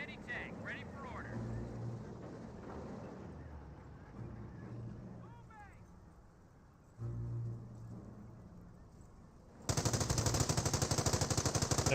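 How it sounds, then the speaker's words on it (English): A heavy machine gun in Company of Heroes opens up in a sustained, rapid, loud burst of fire late on, after a stretch of battlefield rumble, engines and scattered shots under a commentator's voice. "Cal firing away."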